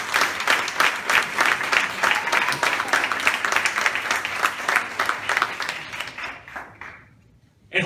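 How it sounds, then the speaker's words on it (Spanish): A church congregation at a Mother's Day service applauds, steady rhythmic clapping that holds for several seconds, then fades away near the end with a brief sound at the very close. "Den un aplauso al Señor."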